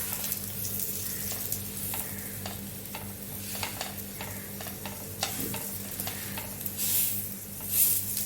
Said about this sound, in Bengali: এরপরে আমরা এই পিঠে একটু ঘি দিয়ে দেবো